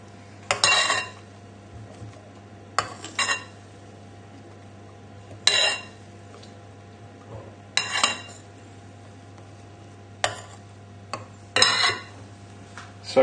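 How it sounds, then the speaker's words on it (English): A metal spoon folding egg whites into a lemon curd soufflé mix, heard as several separate clinks and scrapes against a bowl at irregular intervals over a low steady hum, no talking. "So with your metal spoon, taking 1 spoon of the egg whites, then into the mix."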